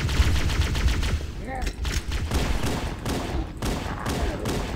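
Plasma weapon fire in Halo: Combat Evolved, a dense stream of rapid buzzing shots with whooshing energy sounds, loud and continuous amid other gunfire and game effects.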